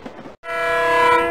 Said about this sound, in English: Fell off a speeding train.